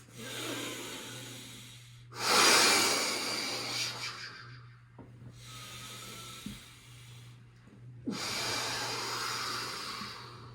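Deep breathing during a yoga core exercise: two long, loud breath cycles, each a strong breathy rush followed by a quieter exhale, close to the microphone over a steady low hum.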